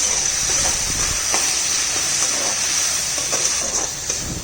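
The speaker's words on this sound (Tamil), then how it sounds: "இப்போ நல்லா வதக்கிடலாம்" Lady finger (okra) and bean curry cooking over low heat in a pan, a steady close sizzle and hiss with faint stirring scrapes and no talk.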